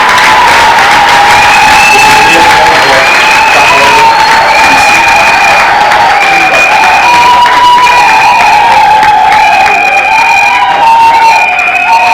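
A crowd at an inauguration ceremony for a development platform in Sankuru applauds and cheers loudly for the president, Alphonse Odimoula, with a sustained wall of noise and wavering, held tones above it.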